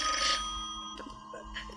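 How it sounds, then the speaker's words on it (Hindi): A telephone rings indoors in a domestic drama scene, a bright trilling ring followed by a second burst, loud and alone with no talk over it. "फोन ना उठाना, बचने दे।"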